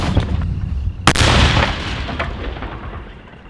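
A grenade launcher firing a shaped-charge round and its explosion, a loud sharp blast about a second in, followed by a long rumbling decay that fades away, with no talking.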